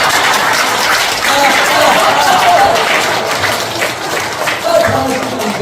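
Church revival meeting audience clapping loudly together, a dense sustained wash of applause filling the hall, with voices faintly mixed in.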